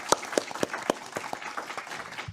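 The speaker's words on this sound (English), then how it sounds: "Everyone give her a round of applause." Audience applause for the organizer at a Federal Trade Commission marketing and public policy conference, a smallish room of people clapping with distinct individual claps audible, brief and moderately loud.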